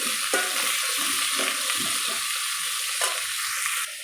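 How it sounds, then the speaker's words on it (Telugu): Mint leaves fry in hot oil for tomato rice, giving a continuous sizzle and hiss with occasional scraping stirs of a spoon in the pan, close and fairly loud. "ఇందులోనే కొంచెం పుదీనా వేసుకోవాలండి పుదీనా కూడా ఫ్రై చేసుకోవాలి"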